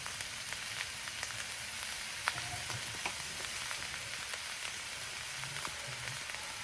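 Shrimp fried rice with sesame oil sizzles in a pan, a soft, even crackling hiss with faint light pops and an occasional clink of a utensil, and no voices.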